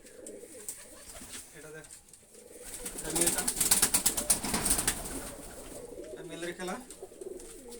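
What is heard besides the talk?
Rajshahi Giribaz pigeons cooing and flapping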